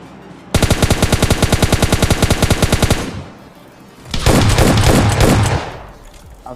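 Automatic rifle fire in the shooter game PUBG Lite, with a long burst of rapid, evenly spaced shots followed after a short pause by a second dense, loud volley, with no talking over it.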